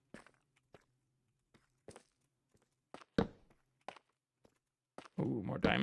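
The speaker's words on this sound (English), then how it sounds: "Here's some footsteps." Scattered footsteps in Minecraft, a handful of soft irregular thuds on a quiet background, with a burst of louder game sound at the end.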